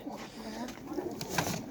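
A pet pigeon coos softly and steadily close by, a low continuous murmur lasting a couple of seconds.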